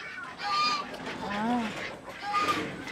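Geese honking at a distance on a farm, a few harsh nasal calls rising and falling over a steady noisy background.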